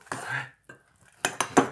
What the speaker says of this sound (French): Essaie de mélanger sur le côté